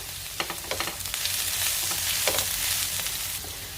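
Ginger-garlic paste sautéing in hot oil, giving a continuous close sizzle that swells midway, with quick scrapes of stirring early on.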